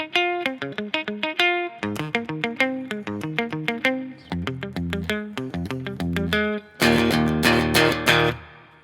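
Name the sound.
electric guitar playing a riff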